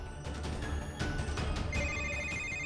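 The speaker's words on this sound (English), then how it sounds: "Look, Mohan is calling me" An incoming call rings through as a phone ringtone, a repeating electronic tone pattern at moderate loudness over a low background hum.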